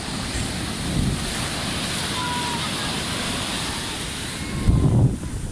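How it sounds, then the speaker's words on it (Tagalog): Ocean waves wash continuously at sea, a steady loud roar of surf with gusty wind buffeting the microphone and a heavier surge near the end. "Sobrang ganda ng alon sa akin dun."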